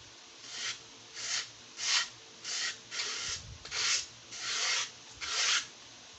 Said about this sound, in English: you just keep sanding little by little where you see it's not hitting right